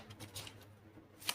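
Tarot-style cards are handled and shuffled to draw an advice card, making soft, close papery flicks and brushes with a sharper snap near the end and no talk.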